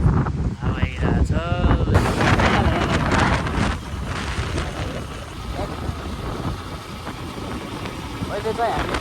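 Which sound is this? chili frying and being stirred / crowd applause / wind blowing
wind blowing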